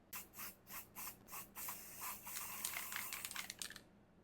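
Short hissing bursts of Monport laser marking spray from an aerosol can, several quick pulses followed by a longer continuous spray coating a part before laser marking, close and fairly quiet.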